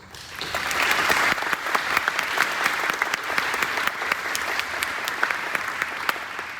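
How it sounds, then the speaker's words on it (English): An audience at a Senate-hosted Academy Day event applauds steadily for several seconds, with sharp individual claps standing out above a dense, even patter of clapping. "I think that deserves a round of applause."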